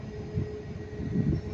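A diesel train numbered 51026 pulls away from a platform at Manchester Piccadilly station, a steady low rumble with a faint whine, close and continuous, no talking.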